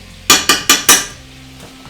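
Flour stirred in a pan for a béchamel roux, heard as four quick, evenly spaced metallic scrapes, close and loud, followed by a quieter stretch and a final clink.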